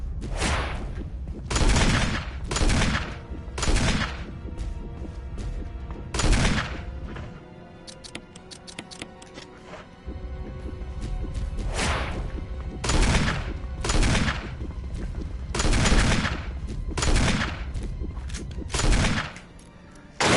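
Repeated gunfire bursts from the Resident Evil REmake video game, heavy and loud, arriving as clusters of shots that recur across the whole stretch, with brief quieter gaps between them and no voice.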